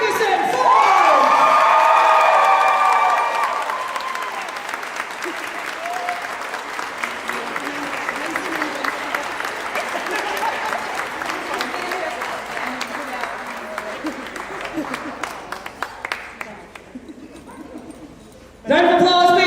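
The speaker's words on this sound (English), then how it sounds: "Round of applause please for our 84 plus kilo class." An audience at a powerlifting championship claps, loud and dense at first, then thinning into scattered claps for several seconds before a brief lull and a fresh burst; a voice speaks over the start.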